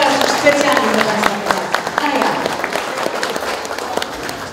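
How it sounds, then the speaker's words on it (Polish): Applause from an audience at an evening jubilee celebration in Ksawerów, a steady wash of clapping running through the whole stretch and mixed with a speaker's voice over the room. "I wielkie brawa."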